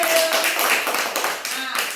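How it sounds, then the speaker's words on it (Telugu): Young children at an anganwadi preschool clapping together, a brief burst of scattered hand claps up close, mixed with voices throughout. "క్లాప్స్ ఇవ్వండి."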